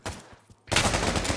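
Video game gunfire: a few muffled shots, a brief lull, then a loud close burst of rapid automatic fire.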